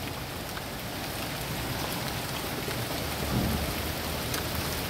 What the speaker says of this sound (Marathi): अशा प्रकारे इकडे पाऊस पडतोय.